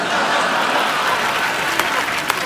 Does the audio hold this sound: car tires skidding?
no